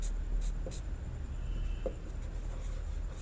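Numbers being written by hand during a class-6 maths lesson, faint scratchy pen or chalk strokes in a few short bursts over a steady low background hum.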